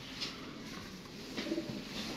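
A pair of pet pigeons gives soft, low cooing calls, repeated a few times in a gentle rhythm. The calls are faint against quiet background noise, and no one talks.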